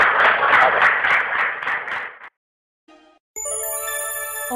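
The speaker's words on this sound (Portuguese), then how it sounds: "Palmas para Jesus, pessoal, bem forte" A congregation at a church prayer service claps in loud, steady rhythmic applause for about two seconds. A brief silence follows, then bright chiming electronic tones.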